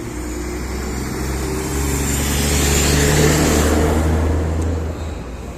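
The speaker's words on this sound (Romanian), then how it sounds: "Trece un camion cu lemne." A truck loaded with logs rumbles past on a roadside, its deep engine drone building from moderate to loud, peaking midway, then easing off as it moves away.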